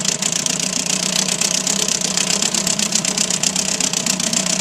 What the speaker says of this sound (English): after 55 years idling